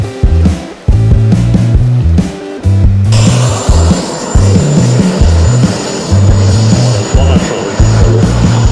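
A $40,000 model jet aircraft engine whines with a sharp high-pitched tone that rises into a loud, sustained roar, layered over a pulsing music track.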